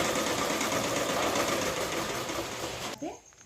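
A domestic sewing machine runs in a fast, steady whir as it stitches the front panels of a princess-cut blouse, close and loud, then stops abruptly near the end.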